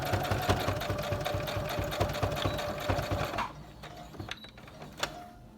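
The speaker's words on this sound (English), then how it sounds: "So you're going to sew across." A sewing machine stitches across fabric while making a fish extender treat hanger, with a steady rapid mechanical whir for about three and a half seconds before it stops, leaving a few faint clicks.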